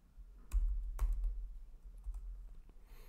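A few quick keystrokes on a computer keyboard typing a command, sharp clicks near the start followed by quieter tapping, with no voices.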